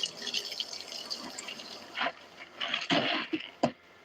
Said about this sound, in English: All the water in the cooler is going to work really good putting this fire out.